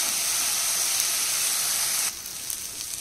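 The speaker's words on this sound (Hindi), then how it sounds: "टमाटर सॉफ्ट होने तक हम इसको भूनेंगे।" Chopped tomatoes fry in a pan for a drumstick-leaf dal, giving a steady close sizzle and hiss that drops suddenly to a quieter simmer partway through.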